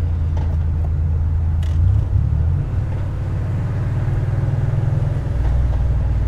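A 1987 Porsche 911 Carrera with a 5-speed transmission driving in third gear, a loud low engine drone from inside the cabin with a brief surge and dip in revs, no speech.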